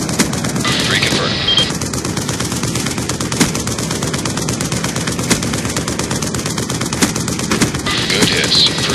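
Heavy video game gunfire from a warship killstreak strike in a Kill Confirmed match, with rapid continuous bursts and repeated loud impacts that run throughout, plus radio-style voices over the top.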